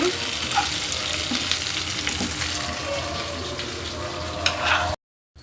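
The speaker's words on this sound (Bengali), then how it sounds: "তো পেঁয়াজ দিয়ে দিলাম কিছু পেঁয়াজ কুচি। তেলের মধ্যে আমি চালটা আগে দিয়ে দিচ্ছি। পেঁয়াজটা একটু ভাজা ভাজা হোক।" Chopped onions hit hot oil in a pan where potatoes were just fried, giving a steady, close sizzle with faint stirring scrapes throughout.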